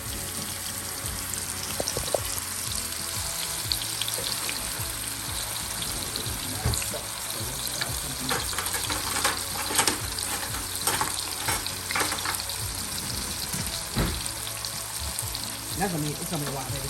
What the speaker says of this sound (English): Let the searing begin.